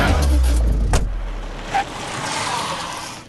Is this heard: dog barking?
no